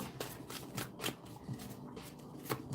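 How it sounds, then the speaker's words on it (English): Quick riffling bursts of cards being shuffled, repeated several times in a steady rhythm, close and fairly quiet with no talking. "Or are you just gonna watch me shuffle cards?"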